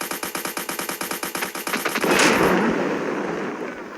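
Rapid video-game machine-gun fire, about twenty evenly spaced loud shots in a tight rhythm, ending in a louder burst and a decaying noisy blast that fades over the last two seconds.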